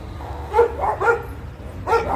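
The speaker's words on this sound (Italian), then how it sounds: "C'è Ocio, il nostro cane che gli passa vicino." A dog gives a few short barks nearby, three quick yaps followed by one more after a pause, over a quiet background.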